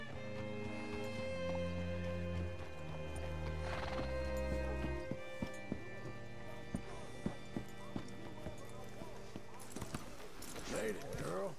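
Horse hooves clip-clop at a run and a horse neighs in Red Dead Redemption 2, with game music and ambience underneath and a voice speaking over the hoofbeats.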